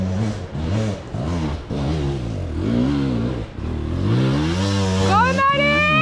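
A motorbike engine at the Romaniacs hard enduro race in Romania revs and labours close by, pitch wavering with the throttle, then climbing sharply as it accelerates away near the end.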